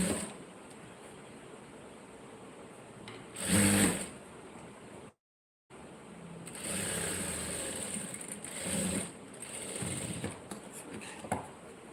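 Sewing machine stitching the lining into a blouse, running in bursts with a louder stretch early on and a short silent break, steady mechanical whir otherwise.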